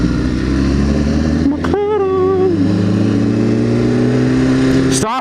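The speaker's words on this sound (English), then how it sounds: "Stop with that exhaust!" A loud sports car engine revs up through its exhaust with a rising, falling whine, then settles into a steady deep rumble; another vehicle flares briefly at the end.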